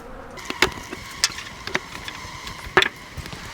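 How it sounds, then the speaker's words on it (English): Honey bees buzz around an opened beehive during queen release and super installation, a faint steady hum with a few sharper clicks and knocks from handling the hive. "bees are grumpy today"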